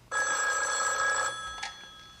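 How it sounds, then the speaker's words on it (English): A telephone bell rings in one sustained burst of about a second, bright and trilling, then stops, leaving a quiet room with a faint click. "I hear a telephone ring"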